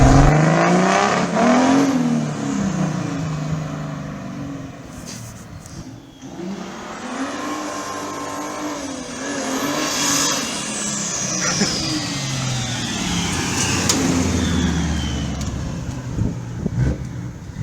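A loud Mazda rotary engine in an RX7 revs hard and repeatedly, rising and falling in pitch with a buzzy, high-revving whine throughout.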